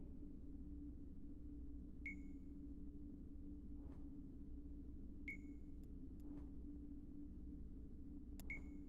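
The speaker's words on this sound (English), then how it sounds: "Do you hear that beeping?" In the video game Dreamfall Chapters, a clear electronic beep sounds three times at spaced intervals over a low steady hum, no voices.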